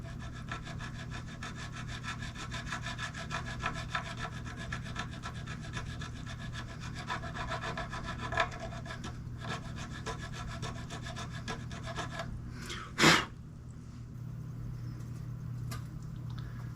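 Small file working a slot in the nut of a Firefly FFSP guitar, a steady rasping scrape repeated in short strokes for most of the stretch, fairly quiet, with a brief louder knock near the end and no talking.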